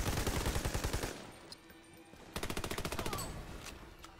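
Rapid automatic gunfire bursts in the video game Army of Two: The Devil's Cartel, loud and close. A dense volley opens the scene, a pause with scattered single shots follows, and a second rhythmic burst breaks out.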